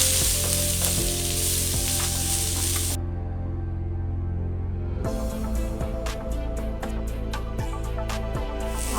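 A dozen or so cashews fry in hot oil in a pan for malai chicken, making a constant close sizzle. Repeated light clicks of stirring come in toward the end.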